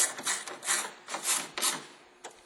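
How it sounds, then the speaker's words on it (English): Two 10mm bolts are run in to hold down a Ford Focus grille, giving a quick series of close ratcheting clicks and scraping turns in short bursts, fairly quiet with no talk. "Next is to reattach the two 10mm bolts to secure our grille down."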